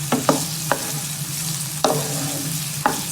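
Onion fries in a pan with a close, steady low sizzle, while a spatula scrapes and taps through it in a handful of sharp, irregular strokes.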